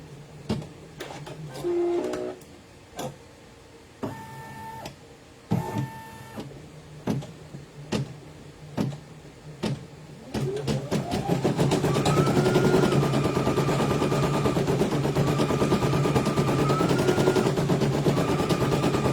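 Brother PE 900 embroidery machine stitching, first a series of intermittent clicks and short motor whirs, then a steady loud rapid chattering hum with shifting motor tones that runs continuously, heard close up.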